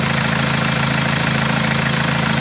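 A 2017 Kia Sorento diesel engine idles up close, a loud, steady low rumble with an even throbbing pulse and a constant mechanical hum throughout.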